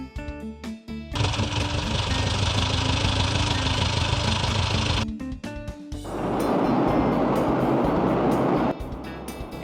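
An SUV engine idles in two long, steady, close runs with a short break between, a constant mid-pitched rumble under faint background music.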